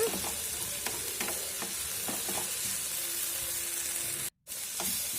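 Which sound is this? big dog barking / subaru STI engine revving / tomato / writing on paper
tomato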